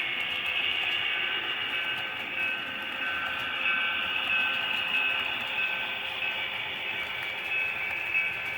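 A steady, grinding rumble with a high metallic squeal runs throughout as a thirteen-car freight train with caboose rolls slowly through a freight yard on rails, constant and moderately loud.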